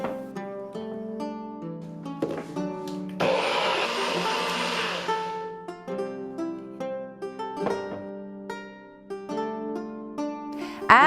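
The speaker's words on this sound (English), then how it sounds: "and zit, zit, zit in the blender." A blender whirs through a green smoothie of unpeeled cucumber and fruit juice: a loud, dense grinding roar lasting about two and a half seconds in mid-clip, framed by tonal background sounds.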